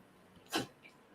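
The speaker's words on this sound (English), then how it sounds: "That's my dog sneezing over there." A single sharp dog sneeze, a short burst of air against a quiet background, followed by a faint snuffle.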